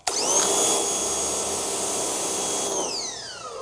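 Parkside high-pressure washer motor running with a steady high whine and tonal hum, starting abruptly and holding level before the pitch drops as it winds down near the end.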